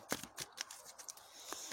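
Tarot cards being shuffled by hand during a reading, a string of soft, brisk papery riffles and flicks in short bursts, close and fairly quiet, with no talking.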